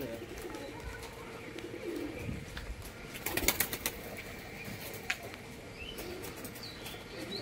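Pigeons flying in a flock over a rooftop loft, with soft cooing and wing flaps throughout, a brief louder flurry of flapping in the middle, mostly continuous low bird sound at moderate distance.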